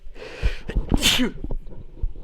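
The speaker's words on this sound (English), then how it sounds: "I have to sneeze." A single loud sneeze up close, with a sharp intake of breath beforehand and a forceful burst, followed by quieter breathing.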